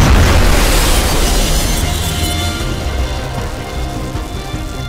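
A pentagram incineration attack explodes in the Fault Milestone One video game, opening with a loud, heavy boom that rolls into a long, roaring rumble and fades slowly.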